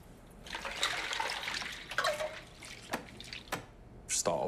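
Water is poured into a pan in a kitchen while cooking. It makes a soft, fairly quiet splashing rush, followed by a few light clinks and drips.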